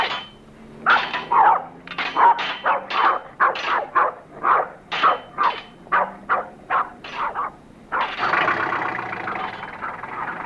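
Dogs bark repeatedly in a fast, uneven series of sharp yaps, provoked by a ruler being scraped along something, followed by a stretch of louder broadband noise near the end.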